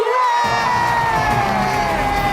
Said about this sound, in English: Big round of applause for Masuo and Shelby and Scott